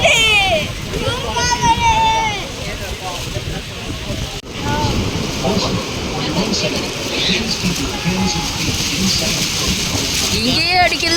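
Spray and rushing water at Niagara Falls make a loud, steady hiss close by, with wind buffeting throughout and people, including a child, talking over it.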